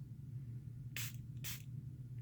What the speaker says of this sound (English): We're going to spray the inside